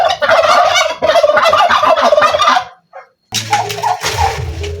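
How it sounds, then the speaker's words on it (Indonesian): A male turkey gobbles loudly and close, a rapid rattling call, followed by a brief pause and another burst of gobbling. "Ini adalah suara khas kalkun jantan."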